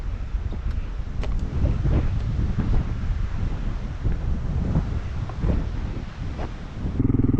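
Steady wind buffets the microphone in a continuous rough roar with low rumbling gusts, loud and close, no voices, on a cold motorcycle ride on a Kawasaki KLR 650.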